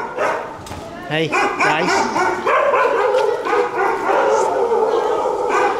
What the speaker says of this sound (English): you'll be greeted by these unwelcoming barks